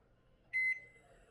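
Microwave oven control panel beeping as a button is pressed to set the clock, a single short electronic tone, clear and close in a quiet room.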